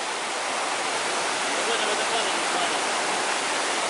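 A waterfall near Golden Lake at Lake Teletskoye roars with loud, dense, continuous rushing water close by, unbroken from start to finish.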